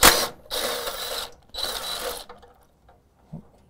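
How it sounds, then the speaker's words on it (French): Two bursts of a power tool whirring close up as a bolt is unscrewed on a modular folding machine's stand, each lasting about a second, followed by a faint knock. "on va juste dévisser ceci au complet et puis on va réinstaller par la suite"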